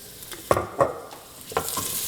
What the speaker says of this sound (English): I'm going to add a little bit of chili flakes right to the garlic and take it into my pan.